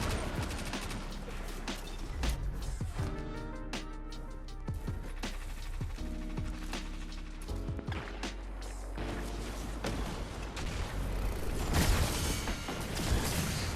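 Weapon fire in the shooter game Destiny 2 cracks out in a handful of sharp separate shots spread across the stretch, mixed with dense game effects and music.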